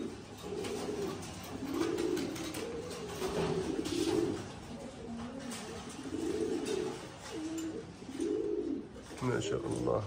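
Pouter pigeons coo again and again in soft, rolling, close-up calls, with a voice talking at times over the birds.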